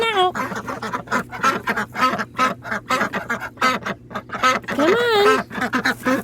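A flock of backyard ducks, barricaded in against predators, quacks loudly and continuously in close, overlapping bursts as they are let out, with a person speaking briefly among them.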